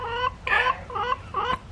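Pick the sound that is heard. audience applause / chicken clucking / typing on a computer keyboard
chicken clucking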